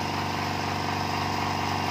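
An oilless air compressor with a 19-liter tank runs steadily as it fills, a continuous dense motor-and-pump drone with no pauses.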